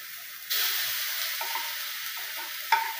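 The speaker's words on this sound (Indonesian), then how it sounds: "jadi bumbunya digoreng dulu ya." Spice paste for seblak fries in a pan, a steady close sizzle with a utensil scraping and stirring through it, and a few brief clinks.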